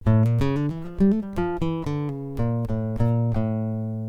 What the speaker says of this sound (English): this scale sounds maybe a bit Spanish or something